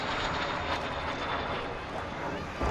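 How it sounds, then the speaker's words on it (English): A Gloster Meteor-style early Allied operational jet from the Second World War roars past at an airshow, a loud, broad sustained engine rush with crowd-field noise, steady throughout. "it was the first Allied operational jet, the only one that saw service actually in the Second World War"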